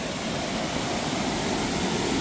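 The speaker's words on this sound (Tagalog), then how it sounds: "Malakas yung tubig sa sapa." Fast-flowing water rushing down a creek after recent rain, a steady, dense broadband roar that stays even and close throughout with no voices over it.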